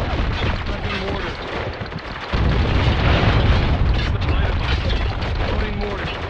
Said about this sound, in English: Loading mortar.